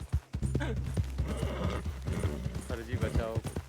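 Steady clip-clop of horse hooves trotting along in Red Dead Redemption 2, with voices talking loudly over the hoofbeats.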